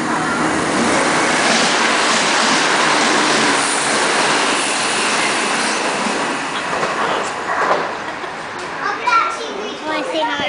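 Rumbling model-village miniature train at Bekonscot with a rhythmic clatter, alongside children chattering and playing nearby; the rumble eases off toward the end.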